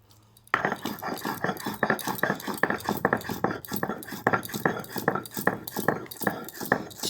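Pointed gourd paste ground by hand on a grinding stone makes rapid, rhythmic rasping strokes, close and steady, starting abruptly after a brief quiet moment.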